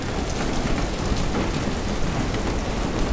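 A typhoon brings a steady downpour of rain, a loud, dense wash of noise, with low rumbling thunder mixed into the continuous roar and no talking.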